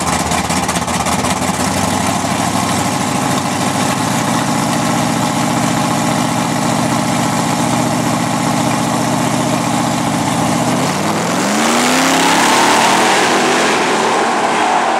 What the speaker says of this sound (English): the Flores performing Camaro on that John Boy the Silent Killer